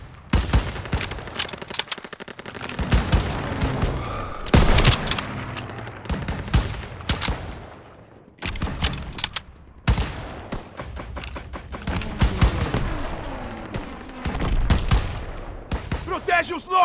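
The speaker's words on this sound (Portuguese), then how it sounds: "Atirando!" Gunfire in the Call of Duty WWII campaign on Xbox One: loud machine gun bursts and heavy booms in clustered volleys, with shouting voices and battle noise in between.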